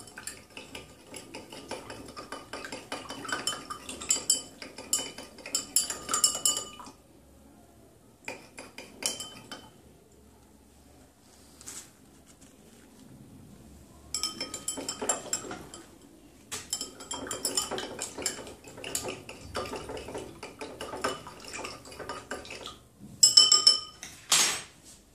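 A spoon stirs salt into water in a glass container to make a sodium chloride solution, bursts of rapid clinking and scraping against the glass separated by quiet pauses, fairly close and with no one talking.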